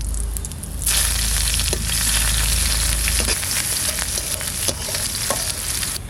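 Bay leaf, dried chili, cumin and onion hitting hot mustard oil in a kadai, a sudden loud burst of sizzling that settles into a steady crackling fry with occasional stirring clicks.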